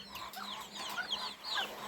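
Chickens cluck in short, busy bursts, several birds close by, with a steady low hum underneath and no talking.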